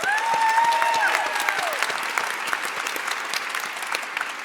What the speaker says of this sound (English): We should applaud that again.